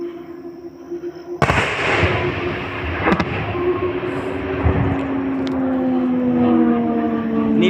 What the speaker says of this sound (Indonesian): Ini pesawat perang ini ada ini 2 pesawat.